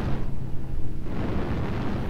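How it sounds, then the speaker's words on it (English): Artillery strike explosions in a military video game, a dense, rumbling barrage of heavy booms rolling together for about two seconds, loud and continuous. "Artillery strike online."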